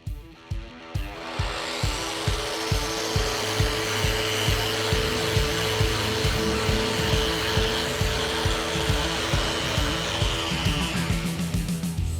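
Sanding body filler on a 1973 Dodge Challenger Rallye with a power sander, a steady loud whirring drone with rhythmic scraping strokes repeating throughout, close and alone.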